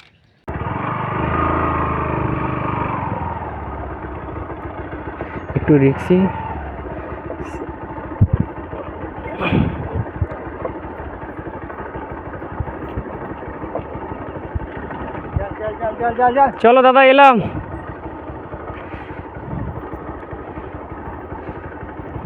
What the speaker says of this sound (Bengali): আর বাইক নিয়ে আমাকে বেরোনো যাক।